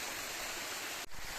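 Waterfall at Cascade des Moines in the Vallée de Chaudefour, Auvergne, France, giving a steady, broadband rush of falling water that is faint and continuous with a brief dip near the end.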